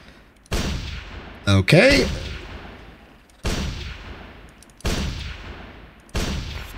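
Gunfire in the Global Agenda video game: five loud, sharp shots spaced about a second apart, each with a long decaying tail, plus one brief spoken word between the first shots.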